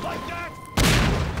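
An explosion in the video game Half-Life 2, a single sudden loud blast that bursts in after a short quiet stretch and rings out to the end.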